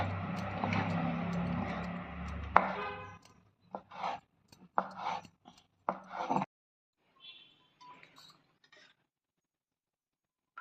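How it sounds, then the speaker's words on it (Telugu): A knife chops cooked attu dosa into small pieces, with about eight sharp, irregular cuts close by after a short stretch of louder kitchen noise. Faint scraping follows, then the clip falls silent. "దీన్ని మంచిగా కట్ చేసుకోవాలి ఇట్లా ఇట్లా చిన్న చిన్న పీసులు కట్ చేసుకోవాలి"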